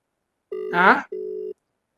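A phone ringback tone: two steady electronic buzzes with a short gap, a brief burst of talk or melody between them, then silence.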